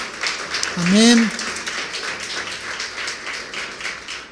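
A church congregation claps together, a dense patter of applause continuing under a voice that speaks briefly at the start, steady and moderately loud through the rest.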